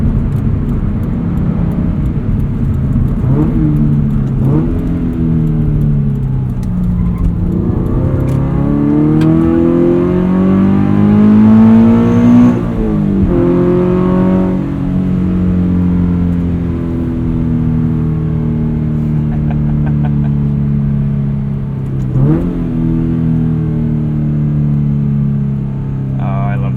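A Subaru BRZ engine revs and accelerates with rising harmonic tones, loud and close from inside the cabin, with a muffled drone between pulls.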